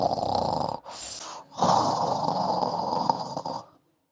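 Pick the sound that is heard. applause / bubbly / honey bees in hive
bubbly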